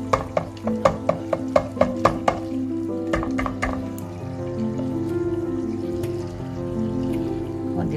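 While tuna macaroni is being made, a series of sharp taps and clinks sounds as ingredients go into the pan, giving way to a steady low sizzle and hiss of cooking.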